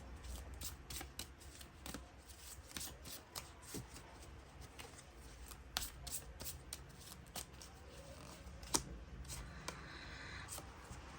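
Tarot cards from a small mini deck being shuffled close by: a steady run of soft papery riffles and snapping card edges for several seconds, quiet, with a few sharper clicks.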